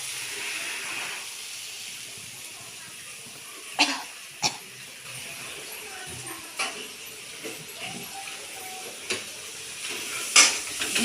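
Fried potatoes added to a cooked-down spice mix in a pan, giving a soft hiss and sizzle with several sharp clinks and scrapes of a utensil, and someone talking at times.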